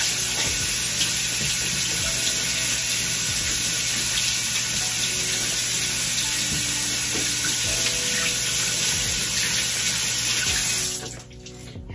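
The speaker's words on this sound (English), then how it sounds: "Hold on, let me wash my hands." Tap water gushes steadily into a sink as gloved hands are rinsed under it, close and continuous for several seconds before the flow cuts off near the end, with no one speaking.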